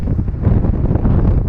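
Strong wind buffets the microphone at a seaside fishing spot, a steady, loud, low rumbling roar with no talk over it.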